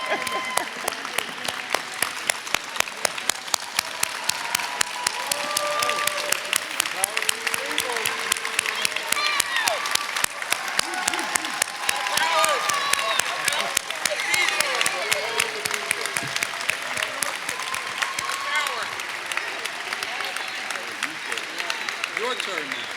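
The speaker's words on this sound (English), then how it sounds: "Another round of applause for our founding members." A crowd on its feet applauds the founding members at a 50th-anniversary celebration of the Paul Robeson Cultural Center, with loud, steady, sustained clapping for over twenty seconds and murmuring voices and a few cheers underneath.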